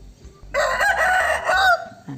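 A rooster crows once, loud and close, a long harmonic call lasting over a second, with faint background rustling before and after.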